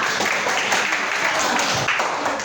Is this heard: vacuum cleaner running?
no